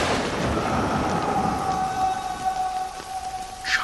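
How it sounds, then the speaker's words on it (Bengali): Thunder rumbles over steady heavy rain in a storm sound effect for an audio story about a lightning strike, a continuous dense hiss with a low rolling roar and a sharper crack near the end, no voices. "চারপাশ কাঁপিয়ে আচমকাই একটা বাজ পড়ল।"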